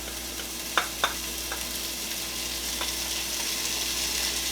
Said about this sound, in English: We are going to add our garlic, stir that around for about a minute